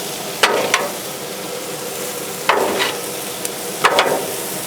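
Meat and vegetables with onions hiss steadily in a hot frying pan for a drunken noodle dish, with three distinct bursts of scraping as they are stirred and pushed around, close and fairly loud, no talking.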